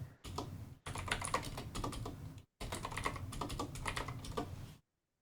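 Rapid clattering keystrokes on a computer keyboard come in close, steady bursts separated by two brief pauses, with no talking over them.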